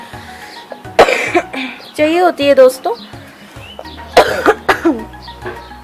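A sharp cough bursts out near the start, followed by talking and another rough cough-like burst later, all close to the mic.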